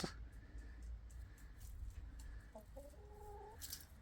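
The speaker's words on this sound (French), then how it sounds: "Alors c'est une poule qui apparemment vient quand on l'appelle." A hen clucks softly at a distance, a few short bursts followed by a drawn-out cluck over quiet outdoor background noise, on the Via Arletensis pilgrim route to Compostela.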